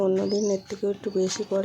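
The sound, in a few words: birds calling in the early morning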